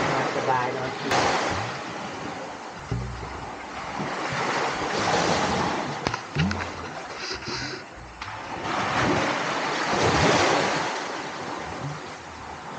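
Surf washing onto a beach of Koh Tiap, a small-island sea coast with local fishing boats nearby, rolls in as a steady broadband wash with wind buffeting the microphone, and someone talks over it throughout.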